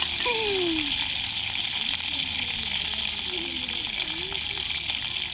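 Dried anchovy fish curry cooking in a village kitchen: a steady, loud frying sizzle with watery gushing noise after chilies go into hot oil, continuous throughout with faint voices in the background.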